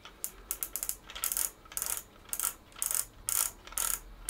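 Film wound by hand on a medium format analog camera, a quiet series of ratcheting clicks in short bursts, repeated at a steady pace, close up and with no talking.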